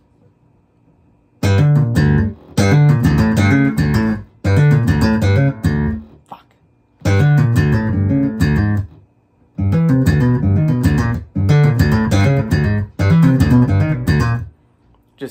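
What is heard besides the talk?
instrument riff of a major third, then down half a step, with open notes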